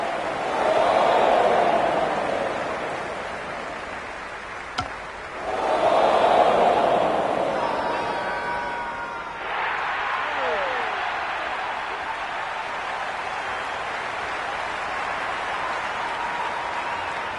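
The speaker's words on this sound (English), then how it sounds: "The crowd are really getting quite raucous. It's going to be difficult to focus down in the middle with this amount of noise." Raucous stadium crowd in the cricket video game Cricket 26, a steady loud roar of cheering and noise that swells and dips across the whole stretch, with no clear talk over it.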